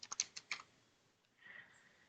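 Several quick keystrokes on a computer keyboard in a short cluster at the start, then a soft, faint tap-like rustle, all close and quiet with no voice.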